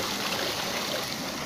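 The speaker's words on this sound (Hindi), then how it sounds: "ये आप देख रहे हैं गोबर पहुंच रहा है वहाँ पंप के पास में और इसी पंप के द्वारा पानी हम लिफ्ट करके" Cow dung slurry and water flowing near a pump on a cow-based organic farm, a steady, soft rushing trickle heard alone.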